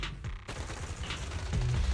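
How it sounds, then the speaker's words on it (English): Gunfire in the action game Zenless Zone Zero, a dense rattling fusillade of shots and booms heard at close range in an open clearing, continuous throughout with no talking. "A sharp gunshot echoes from not far away, the crackling of a dry firework on a summer night."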